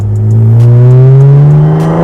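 Loud and close, a Lotus Evora engine blips and revs during a rev-matched downshift, its pitch rising sharply then holding in a short burst with no talking.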